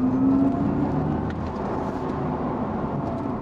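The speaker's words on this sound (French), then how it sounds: "Regardez, je vais vous refaire une petite accélération." An Audi e-tron GT electric car accelerates with a faint, smooth whir that swells briefly and then settles into a steady low hum, with no voices.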